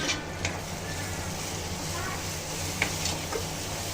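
Onion-garlic masala, red chili powder and turmeric fry in a pan for a soybean dish with a faint, constant sizzle and a few light clicks of stirring.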